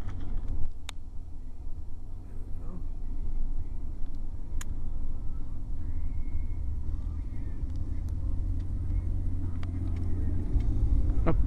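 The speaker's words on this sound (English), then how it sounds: "Oh, there goes a school bus." A school bus drives past on a road in Bucksport, a steady low engine rumble and tire roar lasting several seconds, swelling slightly toward the end.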